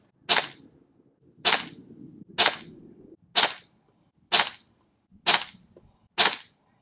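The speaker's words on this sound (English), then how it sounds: "Next up is the Benjamin Marauder pistol." Seven sharp, close shots from a Benjamin Marauder PCP air pistol fired off a bench, each a crisp crack with a short tail, spaced roughly a second apart with no talking.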